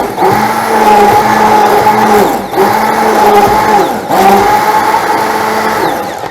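Blender grinding mint leaves and sugar with a glass of water, a loud steady whirring motor drone in three long bursts separated by brief dips, close and alone.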